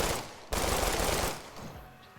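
Loud rapid gunfire from a zombie roguelite video game bursts in suddenly, sustains for about a second as a dense volley, then tails off into fainter shots.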